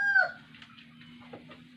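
A rooster gives a short call at the start, followed by soft scattered clucks and a steady low hum in the background.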